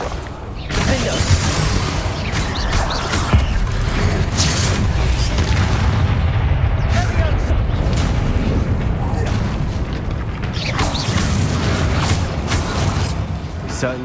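Spells are cast in Hogwarts Legacy with loud, booming blasts and crackling magical effects in dense, continuous combat, and a voice calls out spell names throughout.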